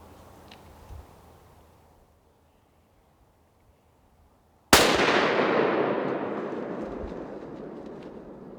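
A single sharp hunting rifle shot fired at a ten-point buck outdoors, a sudden loud crack after near silence, followed by a long fading echo rolling away.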